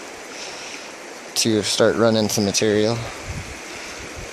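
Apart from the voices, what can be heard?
small creek flowing in American Fork Canyon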